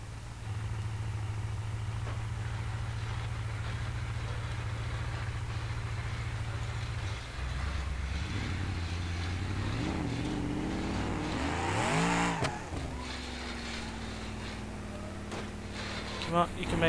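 A car engine in BeamNG.drive drones steadily at a low pitch, then revs and wavers up and down through gear changes, ending in a smoother, higher hum while driving.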